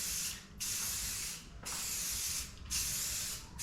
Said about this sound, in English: you can kind of see the panel as you're spraying it